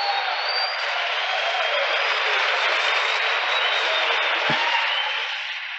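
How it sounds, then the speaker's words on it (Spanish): Audience applause at a Spanish-language church service, a dense, even wash of clapping held steady at moderate volume throughout, with no voices over it. "Un aplauso."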